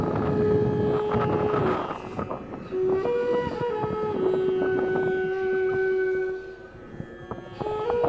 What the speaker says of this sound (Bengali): লঞ্চটি ধীরে ধীরে এগিয়ে যাচ্ছে তার গন্তব্যস্থলে।